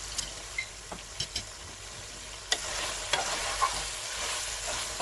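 Chicken with black pepper and chili flakes sizzles steadily in a karahi, with a few clinks and scrapes of stirring breaking through the constant frying hiss.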